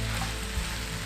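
Cabbage rice is stirred in a pot, a dense continuous sizzle-like rumble with a faint scraping texture, close and steady throughout and with no talking.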